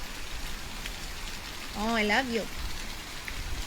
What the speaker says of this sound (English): You like the rain?